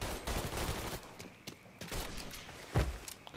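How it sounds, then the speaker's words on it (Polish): Enemy gunfire in Mafia III: bursts of shots crackle in uneven volleys, with a heavier close report near the end and footsteps or thuds between the bursts. "Aha, te głąby tam strzelają."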